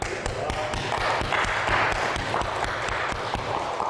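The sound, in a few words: congregation applause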